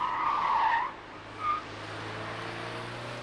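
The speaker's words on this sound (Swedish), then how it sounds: "Renault 20 i undanmanöverprov för 12 år sedan" Tyres of a Renault 20 screeching during an evasive manoeuvre test, one long squeal followed by a shorter second one, over a steady low engine drone.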